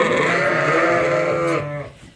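Sheep on a farm in winter letting out a loud, close, drawn-out bleat lasting about two seconds before trailing off.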